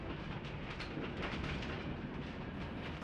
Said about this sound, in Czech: Tramvaje jezdí po Sarajevu dodnes a jsou nám, Čechům, dobře známé.